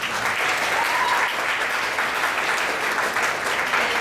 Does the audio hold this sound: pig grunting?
no